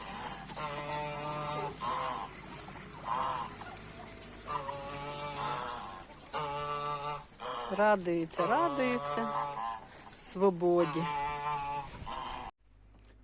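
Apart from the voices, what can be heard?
chickens let out of coop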